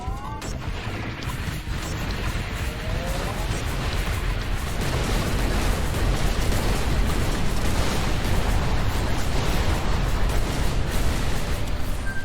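Rockets slam into a target in the space shooter game Everspace 2, a dense run of loud booming explosions and crackling bursts layered over a continuous roar, with no speech.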